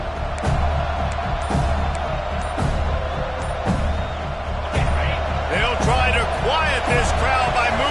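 Stadium crowd at a Boston College versus Florida State college football game, a loud continuous roar of cheering with scattered whoops and bangs building toward the end, under announcer-style talk.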